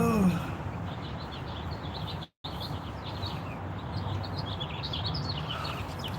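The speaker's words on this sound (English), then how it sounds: "We're listening to the birds chirp." Birds chirp outdoors in a steady scatter of faint high calls over a constant broadband background hiss, with one brief dropout partway through.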